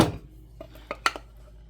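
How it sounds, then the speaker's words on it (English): Canned chili with beans slides from the can into a metal pot, a soft initial plop followed by a few light clinks and knocks of can against pot, close and quiet. "I'm using chili with beans. And dump that on in."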